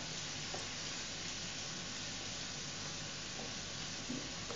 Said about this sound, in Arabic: نخلطوا دائما بالملعقه ديال العود. المقادير ديالنا كلها كتشحر.